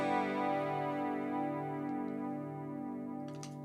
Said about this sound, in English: And then this makes the chorus sound.